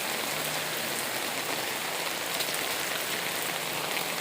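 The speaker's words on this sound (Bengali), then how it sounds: "তখনও কত বৃষ্টি হচ্ছিল।" Heavy rain pours down in a dense, unbroken hiss that stays constant throughout, with no voices.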